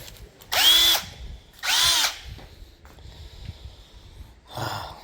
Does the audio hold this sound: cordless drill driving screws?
yes